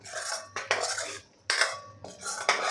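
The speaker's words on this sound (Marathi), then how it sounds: "तेल सुटेपर्यंत आपण हे परतून घेणार आहे" Egg masala stir-fried in a pan until the oil separates, heard as four loud scraping spatula strokes against metal with brief pauses between them, close and with no talk.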